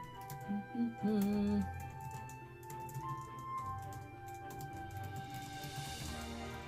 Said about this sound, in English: I'm just going to type out a little tiny bit of what is in the chapter